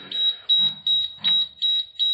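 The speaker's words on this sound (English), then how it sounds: "There's that obnoxious beeping." A school bus ignition warning beeps when the key is turned, six evenly spaced high-pitched electronic tones in a steady rhythm, close and clear with faint background rumble.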